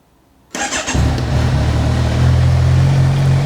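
A 2019 Kawasaki Z1000 SX motorcycle with an Akrapovic exhaust fires up after a short crank, then settles into a steady, deep, loud idle close by.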